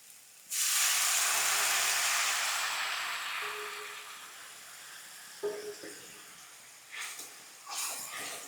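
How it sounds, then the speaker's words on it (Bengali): Water poured into hot spiced oil for a fish-head lentil dish bursts into a loud, close hiss that slowly fades into a softer sizzle, followed by a few clinks and splashes. "দেখো আমার মশলাটা তেল ছেড়েছে, এর মধ্যে আমি এবার জলটা দিয়ে দিচ্ছি।"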